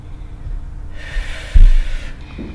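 Breathing while holding a Pilates plank comes through as one long, close, audible breath, followed by a sharper snort-like exhale, against a quiet background.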